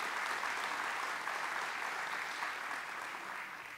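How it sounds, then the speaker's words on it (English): Soft, continuous applause from a conference audience at the opening of a space exploration summit, heard from some distance as a broad wash of clapping that gradually fades near the end. "an applause to them"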